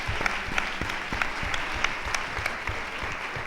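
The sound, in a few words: audience applause for a woman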